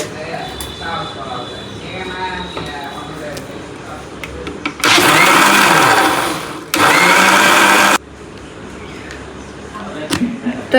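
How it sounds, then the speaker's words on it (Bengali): A kitchen blender whirs loudly in two bursts, blending spices with squeezed lemon juice, with a short pause between runs; someone talks before and after the blending. "আমি এখন এগুলো ব্লেন্ড করে নিব"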